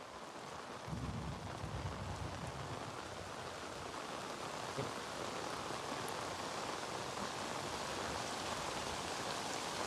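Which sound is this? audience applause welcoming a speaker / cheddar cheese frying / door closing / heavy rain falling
heavy rain falling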